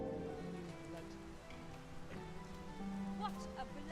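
Light rain in Dragon's Dogma 2 pattering softly beneath tonal game music and scattered small sound effects, the drops staying faint and continuous in the background.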